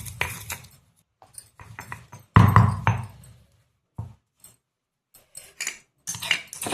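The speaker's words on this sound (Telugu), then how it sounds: "వేయించుకున్న చూడండి పల్లీలు, జీలకర్ర, కొబ్బరి ఉంది కదా, ఇప్పుడు వాటిని దంచుకుందాం." Roasted peanuts, cumin and coconut pounded by hand in a village kitchen: a run of irregular sharp knocks and dull thuds, some heavy and some light, with short pauses between bursts and no talk.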